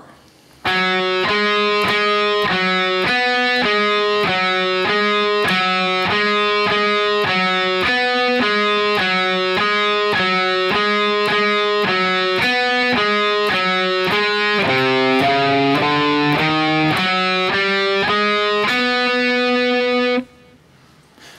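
Electric guitar playing the verse variation of a song, a steady, repeated picked riff with evenly spaced notes that shifts lower near the end, loud and alone with no talking.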